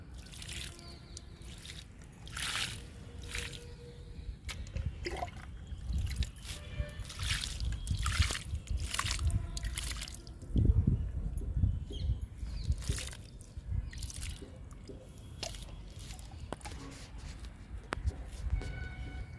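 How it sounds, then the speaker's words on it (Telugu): Water poured onto two potted coleus plants in tubs, heard as close, irregular splashes, trickles and drips over soil and leaves, uneven bursts spread across nearly twenty seconds. "ఇప్పుడు వాటర్ ఇచ్చేద్దాము ఈ రెండు మొక్కలకి"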